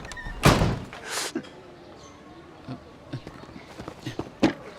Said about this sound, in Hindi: तुमने दरवाजा क्यों बंद किया?